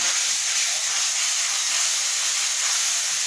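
Pointed gourd (potol) sizzles in hot oil in a pan while being stirred, with salt, turmeric and sugar added, giving a steady close hiss without pause.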